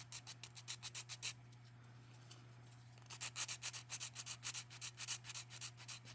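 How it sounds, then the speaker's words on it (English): Cured resin is sanded with a 180 grit nail file in rapid back-and-forth rasping strokes, close and crisp, pausing briefly before resuming faster, over a faint steady hum. "take a nail file, get one of these 180 grit. You just sand it right off."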